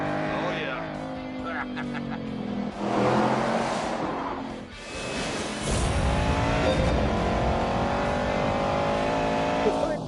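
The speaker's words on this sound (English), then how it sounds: "the engine in Hammond's car is a push-rod, two-valve iron museum piece" A muscle car with an old iron push-rod, two-valve engine accelerating, a rising throaty roar swelling through gear changes, loud and close, with someone talking over it throughout.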